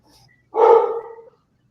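A single dog bark indoors in a noisy house, one short, fairly loud woof standing alone against quiet.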